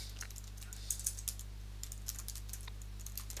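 Typing on a computer keyboard during CSS coding, a run of light, irregular key clicks close by over a low steady hum, with no talk.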